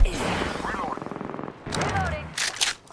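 Rapid automatic gunfire rattles in Apex Legends, with quick repeated shots in bursts, mixed with other combat noise and voices talking over the action.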